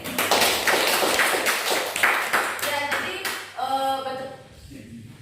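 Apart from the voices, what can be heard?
students clapping hands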